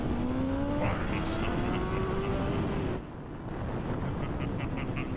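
A motorcycle, a Yamaha MT-10, passes another vehicle at speed with a loud engine whine whose pitch climbs and sweeps, then drops off near the midpoint and continues more softly, with wind rush throughout and a voice talking over it.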